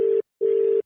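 An outgoing telephone call rings back through the handset with a steady electronic tone, one short burst then a longer burst after a brief gap, loud and close, with no voices.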